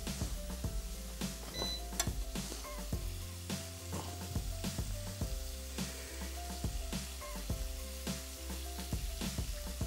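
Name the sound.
food frying in a pan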